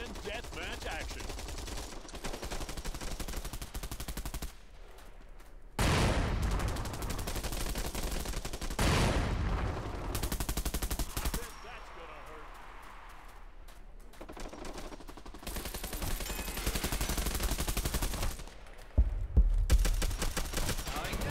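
Bursts of gunfire in the online shooter Bullet Run, from a deathmatch round. Loud rapid volleys come in several separate blocks with short quieter gaps between them.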